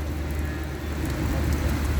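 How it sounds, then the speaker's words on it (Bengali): Heavy rain falling in Saudi Arabia, a dense, steady wash of noise with a low rumble underneath and no clear individual drops. "বৃষ্টি আছে সৌদি আরবে অনেক"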